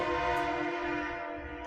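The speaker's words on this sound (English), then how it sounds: "Someone drove by our building in the back, and it sounds like they have a train horn." A truck's train horn blasting as it drives past behind a building, a single sustained loud multi-tone chord held for the whole short clip, slightly fading as it moves away, with no talk.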